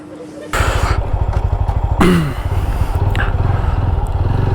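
A motorcycle engine starts up and runs close by with a steady rapid low thrum after a brief thud, in a temple tour setting at Bhojpur near Bhopal.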